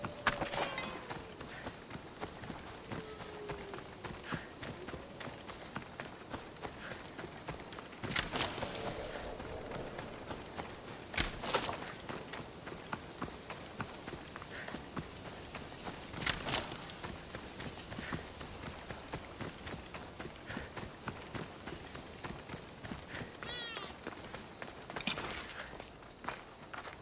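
A horse gallops in Assassin's Creed Odyssey, a steady patter of hoofbeats running along at moderate loudness, with a few sharper knocks and effects scattered through and no speech.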